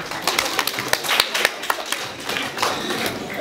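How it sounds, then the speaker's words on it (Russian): An audience applauds at an anniversary celebration in Meshchovsk, with scattered, uneven clapping from a smallish crowd nearby. "Аплодисменты."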